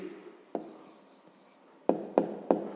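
Pen writing an answer by hand on paper in a fifth-grade maths exercise, a soft scratchy stroke followed by three short sharp taps near the end, close and quiet.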